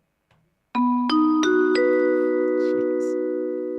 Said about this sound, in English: It's a call to attention in a train station.